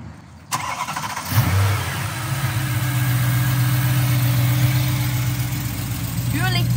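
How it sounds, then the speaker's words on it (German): A BMW E92 M3 with its naturally aspirated V8 cranks and fires, flaring briefly before settling into a steady low idle rumble, close by, with a voice speaking faintly over the engine. "ich mache ihn jetzt einmal für euch an, dass er auch nochmal in den Genuss eines V8-Saugers kommt."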